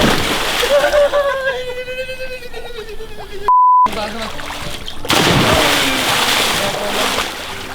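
People jumping into a pool built from a trampoline, water splashing and sloshing loudly as voices shout and talk over it, with a short censor beep partway through.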